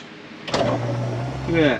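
A 1955 Ford's power window motor whirs steadily as the glass lowers, a close mechanical hum lasting about a second under a brief spoken remark, then a brighter rising whine as it finishes.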